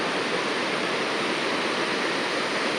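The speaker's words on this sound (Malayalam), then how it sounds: "അതൊരു മനോഹരമായ വെള്ളച്ചാട്ടമാണ്" Aruvikkuzhi waterfall pours beside a steep uphill road, making a dense, unbroken roar of rushing water that stays loud and even throughout.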